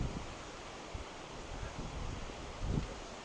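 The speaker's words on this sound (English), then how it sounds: "man, it's windy here." Wind gusts outdoors at a building site, rushing and buffeting the microphone with a steady low roar and a few stronger bumps.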